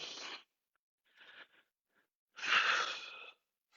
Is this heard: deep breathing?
yes